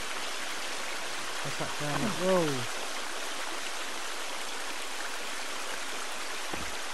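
Free-flowing stream water in the video game The Forest, a constant broadband rushing wash that fills the whole stretch, briefly overlaid by a startled voice near the start.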